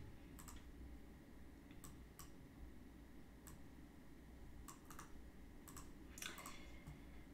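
Keys clicking on a computer keyboard in short scattered bursts of a few strokes each, faint and fairly close over a steady low hum, with no talking.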